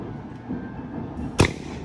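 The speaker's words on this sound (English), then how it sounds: "It's a homemade firework." A homemade firework goes off on a street in San Vicente, Palawan, in the Philippines, giving one short, sharp whooshing burst against quiet background noise.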